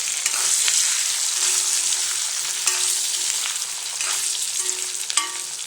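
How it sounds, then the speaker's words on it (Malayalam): Tender jackfruit frying with curry leaves in a pan, a loud continuous sizzle with occasional scrapes and clinks from stirring, close up and without talk. "കറിവേപ്പിലയും കൂടെ ചേർത്ത് നന്നായി ഇളക്കിയെടുക്കാം."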